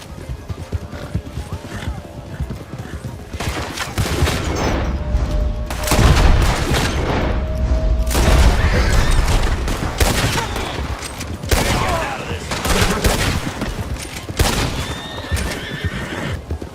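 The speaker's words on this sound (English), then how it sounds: "That explosion came just in time." Rapid gunfire and heavy booming blasts erupt in Red Dead Redemption 2, mixed with horses whinnying and hooves clopping, loud and dense throughout with repeated sharp bursts.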